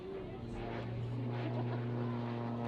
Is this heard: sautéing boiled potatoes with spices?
no